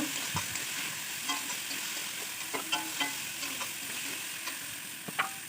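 Chickpeas fry with onions in a wok, a constant sizzle broken by regular scraping and tapping from a stirring spatula, close and fairly loud with no talking.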